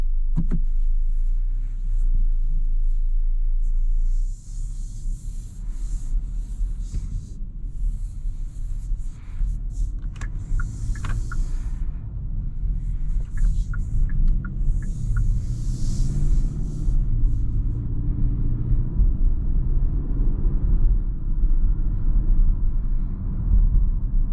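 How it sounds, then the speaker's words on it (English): A 2022 Hyundai Tucson N-Line on a test drive, heard from inside the cabin as a steady low engine and road rumble with a faint hum, continuous and fairly loud, with no talk. "let's go ahead and take this N-Line on a test drive and see how it does"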